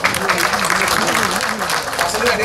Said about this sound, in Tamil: அவருக்கு பெரிய கைத்தட்டல் கொடுக்கலாம்